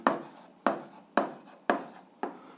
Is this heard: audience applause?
no